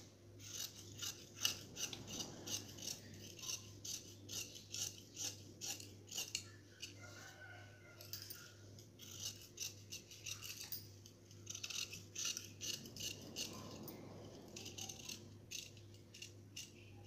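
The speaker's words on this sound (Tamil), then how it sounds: "இப்போ இதுலையும் நம்ம இந்த பீஸை வந்து நம்ம கட் பண்ணி எடுத்துக்கலாம்." Scissors snip through blouse fabric in a quiet room, a close, faint series of repeated crisp cuts and light metallic rattles in an uneven rhythm, with no talking.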